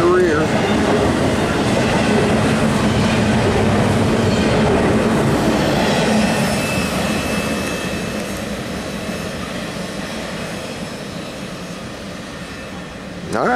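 Norfolk Southern NS 222, an intermodal double-stack train led by three AC44 locomotives, rolls northbound past CP Beaumont with a loud, steady rumble and clatter of wheels. The roar fades slightly toward the end.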